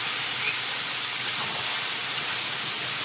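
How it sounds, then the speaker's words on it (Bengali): Green bananas sizzle loudly in hot oil as they are sautéed with spices, a steady bright hiss with a couple of faint clinks, close and unbroken. "মশলার সঙ্গে মিশিয়ে কলাটাকে একটু ভালো করে কষিয়ে নেব"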